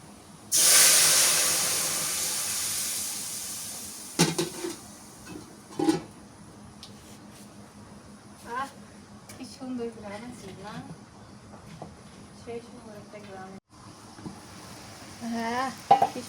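Black lentils are poured into a hot pan of fried onion and turmeric, bursting into a loud hissing sizzle that quickly fades to quieter crackling and stirring, with voices talking over it.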